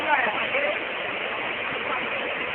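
Broadband rushing water pours out below Erai Dam in a steady, continuous roar, close and loud, while someone talks over it.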